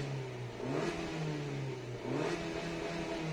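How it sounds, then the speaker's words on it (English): Suzuki Baleno petrol engine on a light Heartect platform revving twice with no one talking, each rise climbing in pitch before falling back to a steady idle hum, close and moderately loud. "Now let me rev the engine."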